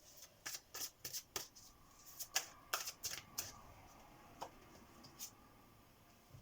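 Oracle cards being shuffled in quick, crisp riffles: a burst of sharp, papery slaps, a pause, then further bursts and a few isolated flicks, close and fairly quiet with no talking.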